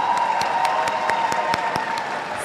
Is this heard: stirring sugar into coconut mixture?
no